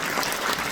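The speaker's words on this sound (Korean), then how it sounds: "여러분 많은 박수 부탁드리겠습니다" An audience at a Korean lawmaker's constituency report meeting claps in a brief, dense burst of applause that fills the whole moment.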